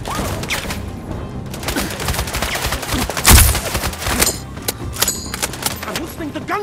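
Bursts of rapid gunfire rattle through a busy scene in the video game Sniper Ghost Warrior Contracts 2, with one loud close blast in the middle and scattered shots afterward.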